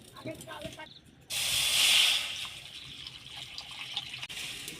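Water pours into a kadai set on the stove, a sudden loud hissing gush lasting about a second before easing into quieter splashing and sizzle, with no voices.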